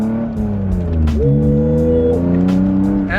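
A BMW E36 M3 being driven and drifted, with a steady engine drone, rising and falling revs and a tire squeal in the middle, close and loud.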